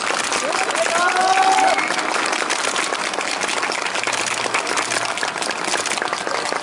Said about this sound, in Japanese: スマートファルコン号の関係者の皆様そして伊藤さん渡部さんに今一度大きな拍手をお願いいたします